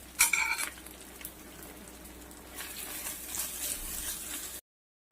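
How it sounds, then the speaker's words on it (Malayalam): Ginger paste, coriander leaves and crushed garlic being sautéed in a pan, a steady soft sizzle with a few sharp utensil clinks against the pan near the start. "ഇഞ്ചി പേസ്റ്റ് മല്ലിയില വെളുത്തുള്ളി ചതച്ചത് ഇതെല്ലാം ഇടുന്നുട്ടാ ഇനി ഒന്ന് വഴട്ടാം"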